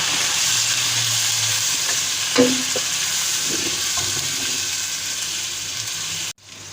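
Meat frying in hot oil with garlic-ginger paste for a bottle gourd and meat curry: a loud, steady sizzle with a few stirring clanks, then a sudden cut near the end.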